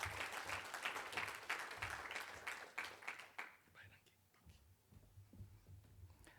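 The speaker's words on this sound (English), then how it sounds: "Let's please give President Pretorius a massive round of applause." An audience at the Bank Windhoek Agricultural Series event applauds President Pretorius, a moderate patter of clapping that thins out over several seconds, with a low hum underneath and sparse clapping continuing toward the end.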